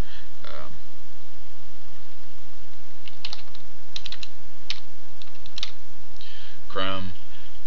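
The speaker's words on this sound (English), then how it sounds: "you're going to type in up at the top here in the address bar" Fingers type on a computer keyboard, entering an address into a web browser: a few short bursts of close, crisp key clicks over a steady background hiss.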